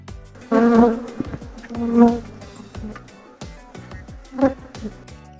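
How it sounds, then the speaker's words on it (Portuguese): A queenless Apis honey bee swarm buzzes close by in the open, with individual bees droning past the microphone in loud, varying swells over a steady background hum. "Abelha querendo entrar ali."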